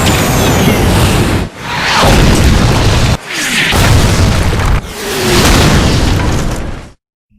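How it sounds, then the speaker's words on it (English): A rocket blows up in Tony Hawk's Underground 2 on PC, a loud roaring game explosion that comes in three long rumbling surges with short dips between them, then cuts to silence. "sit back and enjoy the final destruction moment of this rocket right here."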